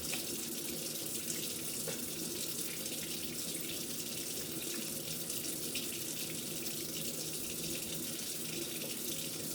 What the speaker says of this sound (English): now you make sure you rinse your hands, make sure that the tips of your fingers are facing down